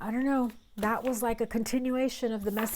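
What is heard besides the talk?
No everyday noises stand out.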